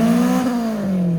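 Honda Integra engine revving steadily as it tries to spin its tires in a weak burnout attempt, a loud sustained drone that sags slightly in pitch without dropping off.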